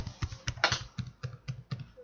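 Keys on a computer keyboard are pressed one after another in a quick, even rhythm, about nine crisp, close taps across two seconds with no talking.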